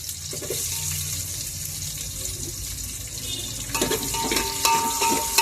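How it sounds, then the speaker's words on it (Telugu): Cumin seeds and onion pieces fry in a pan for prawn biryani, giving a continuous watery sizzle that grows louder and crackles more sharply toward the end, with no talking. "జీలకర్ర వేస్తున్నానండి. ఉల్లిపాయ ముక్కలు కూడా వేస్తున్నాను."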